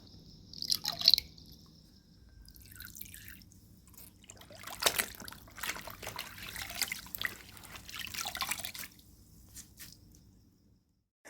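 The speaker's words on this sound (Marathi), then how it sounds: "ते पाणी आणते आणि उंबरठ्या बाहेर येऊन अशा प्रकारे दोन कोपऱ्यामध्ये हे पाणी टाकत असते" Water poured from a vessel onto a doorstep threshold at the two corners during a morning ritual, heard as wet splashing and dripping bursts across several seconds, moderately close with quiet background.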